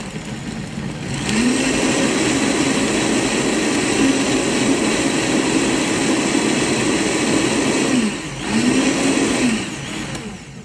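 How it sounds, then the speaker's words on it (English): A blender runs loud and steady while blending a watermelon sport drink, its motor whirring with a harmonic tone that dips briefly near the end before picking up again. "I'm going to give this a quick blend"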